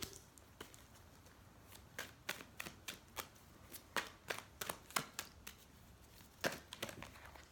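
Tarot cards are shuffled close up, a quick run of papery riffles and flicks with several cards flipping out, crisp and irregular against a quiet room with no talking.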